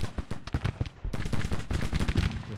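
Rapid crackling volleys of Colt revolver fire from Civil War cavalry in the strategy game Grand Tactician: The Civil War, dense overlapping shots for several seconds, loud and continuous with a brief lull midway.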